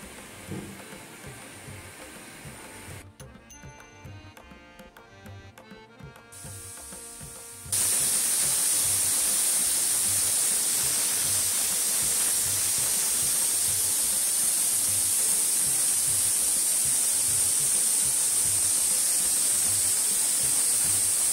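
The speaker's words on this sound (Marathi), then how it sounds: "आता कुकरच्या 5 शिट्या झाल्यात." Pressure cooker on a high gas flame cooking rushichi bhaji, letting out a loud, steady, continuous hiss of escaping steam that starts abruptly and holds at full strength, following a quieter stretch of kitchen noise.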